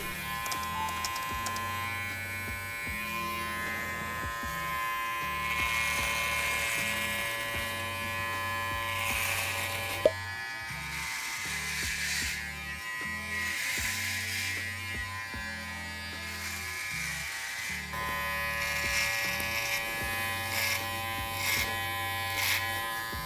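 An electric trimmer fades a bushy beard, buzzing in repeated on-and-off bursts of varying length as it's drawn through the hair, close and fairly quiet, with one sharp click midway.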